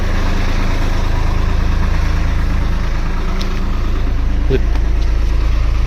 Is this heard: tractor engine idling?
yes